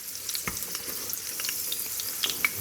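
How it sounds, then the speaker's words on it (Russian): Crimean Tatar dört kesme dough fries in hot oil, giving a soft, steady sizzle and crackle with scattered small pops, fairly quiet and close. "будем отправлять наш дёрт-кесме в масло"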